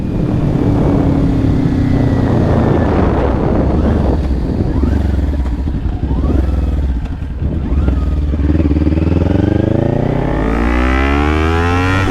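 A motorcycle engine pulls hard in fifth gear while riding, loud and close with rising and falling revs under steady wind noise for the whole stretch.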